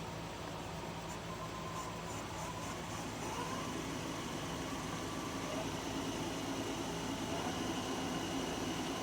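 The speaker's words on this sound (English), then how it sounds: "Let's see what we can do about turning the inside of this bowl out." A wood lathe turns the inside of an Ipe bowl with a steady, even motor drone and a faint broadband whir of spinning wood, continuous and unchanging throughout.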